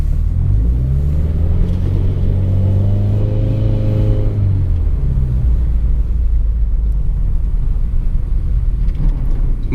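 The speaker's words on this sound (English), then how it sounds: "Go get a couple donuts in real quick." A Subaru WRX on snow revs up hard as it spins through donuts, its engine rising to a loud, wavering roar, then falling back to a steady, close, low rumble.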